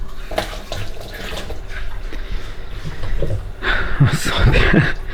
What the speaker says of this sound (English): Have to rinse my hands, aren't I?